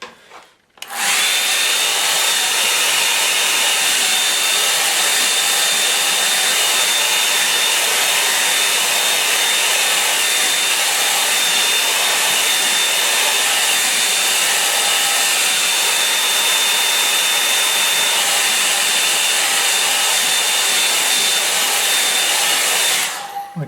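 Hair dryer blowing on a landscape painting's sky, a loud, steady whooshing hum with a faint high whine that starts abruptly, runs unbroken for over twenty seconds and cuts off at the end, no talk.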